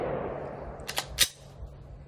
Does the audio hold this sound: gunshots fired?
yes